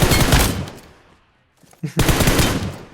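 Loud automatic gunfire in PUBG Mobile, a sustained burst that fades into near silence, then a couple of quick shots and another heavy burst, close and dense, no talking.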